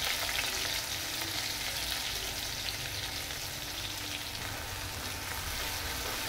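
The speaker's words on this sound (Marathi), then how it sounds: "आता टाकत आहे कढीपत्ता, लसूण आणि लाल मिरचीची पेस्ट टाकत आहे" Curry leaves, garlic and red chili paste fry in hot oil on a low flame, a continuous, even crackling sizzle close by with no voices over it.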